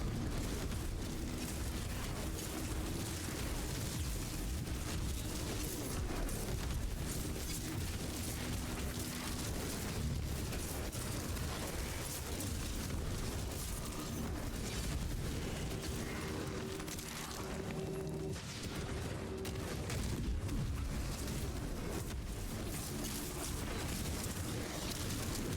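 Fiery explosions burst in a cramped video game dungeon, loud and continuous with deep booming rumbles and crackling bursts layered over a dense game soundtrack for the whole stretch.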